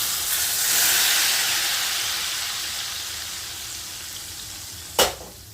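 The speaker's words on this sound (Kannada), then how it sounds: "ಆ ಒಗ್ಗರಣೆನ ಇದರಲ್ಲಿ ಹಾಕ್ಕೊಳ್ಳೋಣ" Tempering of hot oil and spices (oggarane) poured into a pot of mango gojju, giving a steady, close sizzling hiss that slowly fades, ending in a brief sharp clink near the end.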